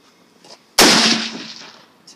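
A single loud gunshot goes off outdoors and leaves a long echo that fades away. Faint sounds come before and after it, with no speech.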